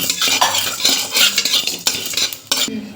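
Mustard seeds and toor dal being stirred and dry-roasted in a pan for homemade rasam powder, with a spoon scraping and rattling continuously against the metal, loud and close, with no voices.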